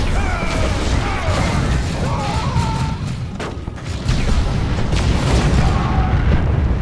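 Explosions and weapon fire in the strategy game Dawn of War II: Chaos Rising, a dense stretch of booming blasts and crackling battle noise with several sharp impacts, loud and continuous.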